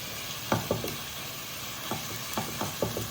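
Ginger garlic paste sizzling in oil left from frying chicken, a constant hiss broken by a handful of spatula scrapes and stirs, close up with no talking.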